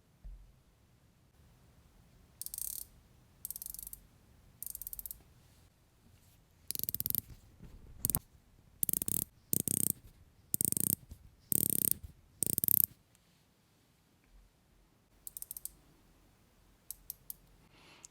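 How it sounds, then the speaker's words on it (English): A stiff 120-click unidirectional rotating bezel on an Aragon Divetank 40mm dive watch turns in short ratcheting bursts, crisp close clicks separated by pauses, with a few single clicks at the end. "You have a unidirectional rotating bezel that I think we should probably take a listen to."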